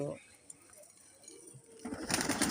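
Pigeons coo softly nearby under a low murmur of voices, then a burst of flapping wings as the flock takes off.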